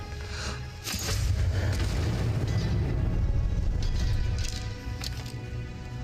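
A rumbling explosion in Skyrim swells at about one second and holds a loud, low roar for several seconds before easing off, with no talk over it.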